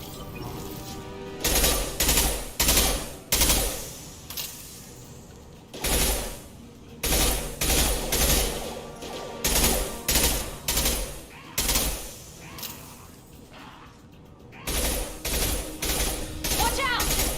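Video game weapons fire in repeated short, loud bursts, a staccato run of volleys with brief pauses between them.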